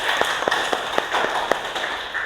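A few sparse, distinct handclaps for a student named Novi in an Indonesian teacher-training class, spaced at an uneven, fairly quick rhythm against a quiet background.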